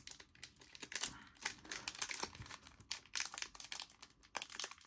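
Faint, busy crinkling and crackling of a One Piece card game booster pack wrapper being worked at by hand, with rapid irregular rustles and small tearing sounds close by.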